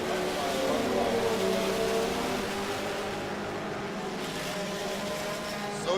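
Race cars lap a dirt oval at Muskingum County Speedway, a sustained engine drone rising and falling at a distance as the field comes around for the checkered flag.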